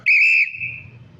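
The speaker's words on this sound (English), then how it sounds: "I love that whistle." One sharp, loud whistle blast sounds outdoors at a street gathering, held steady for about half a second before tailing off into low background rumble.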